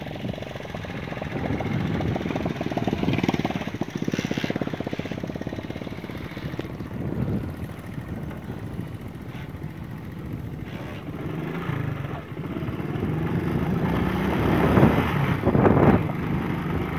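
A parked motorcycle idling steadily nearby in an outdoor farm setting, a continuous loud low engine rumble lasting throughout, with occasional voices underneath.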